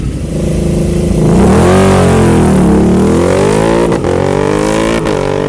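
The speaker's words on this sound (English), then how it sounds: "Who'd have thought a flat track bike made in India would be fun up a hill climb?" A flat track motorcycle made in India races up a hill climb, its engine revving loud and close, rising and falling in pitch as the rider works through the gears, with brief dips between shifts.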